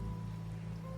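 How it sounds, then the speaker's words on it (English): Steady rain falls in the video game Wuthering Waves, a faint, even patter on surfaces over low ambient tones, with no voices. "The rain's back."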